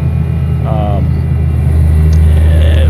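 The engine of a truck in Euro Truck Simulator 2 idles as a low, steady drone with a slight rise in rumble partway through, while someone talks over it.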